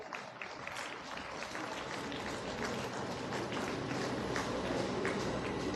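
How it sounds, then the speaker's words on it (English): A crowd gives a sustained, dense round of applause welcoming Dr. V. Srinivas Rao, Dean of Student Affairs at Anurag University, at an ELTA TEDEd talks showcase; the clapping is steady and fills the room throughout, with no speech. "with a huge round of applause."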